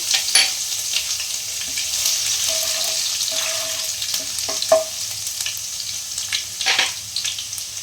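Chopped garlic drops into hot oil for a soybean chilli gravy and sizzles steadily up close, with occasional sharp clinks and scrapes of a spoon against the pan and no talking.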